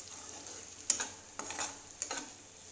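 Potatoes fried with turmeric and salt in hilsa fish oil crackle and sizzle steadily in the pan, while three brisk stirring scrapes clatter against the metal at close range.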